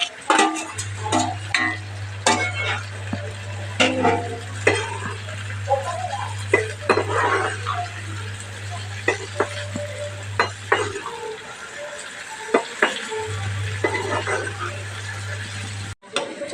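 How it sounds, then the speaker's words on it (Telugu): Dried prawns frying with chopped onions and green chillies over a wood-fired stove, a steady close sizzle running almost throughout with occasional stirring scrapes, broken by a brief pause near the end. "ఎండు రొయ్యలు ఫ్రై చేసుకున్నాను ఇగో కొద్ది ఫ్రై అయ్యాక ఉల్లిపాయలు పచ్చిమిరపకాయలు వేసుకోవాలి"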